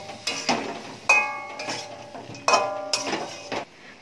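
A spoon clanks and scrapes against a cooking pot as spices and mixed vegetables are stirred and fried for khichuri, with repeated sharp metallic knocks in an uneven rhythm.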